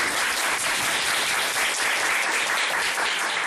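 An audience breaks into steady, dense applause to open a student council election hearing, the clapping loud and continuous throughout with no voices above it.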